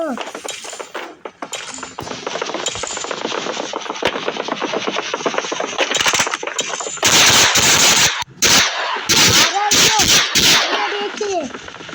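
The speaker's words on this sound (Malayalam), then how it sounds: "ഓ, അത് വെറുതെ വെടി വെച്ചാണ്." Gunfire in the Roblox Squid Game plays in sharp bursts of rapid shots and clanking impacts, loud and clustered toward the end, mixed with scattered game sounds and some voice activity.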